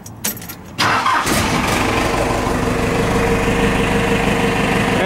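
A Cummins diesel engine cranks briefly and catches, then settles into a loud, steady running idle close by with a deep, even rumble.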